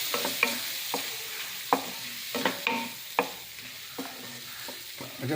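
Chettinad chicken masala gets stirred in a hot pan, with a utensil scraping and knocking against the metal in irregular strokes over a soft sizzle, close by and with no voices.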